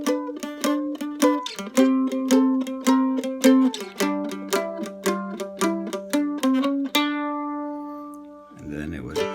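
A mandolin picks a blues turnaround lick in G, a quick run of bright plucked notes with steady rhythm and ringing decay. It plays alone and close, then settles onto a sustained final chord.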